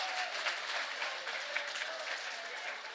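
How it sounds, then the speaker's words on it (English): Crowd of audience members at a young adult forum applauding, a dense, steady wash of clapping that holds at an even level for a few seconds, alone without speech. "Give a round of applause for everybody here that's great."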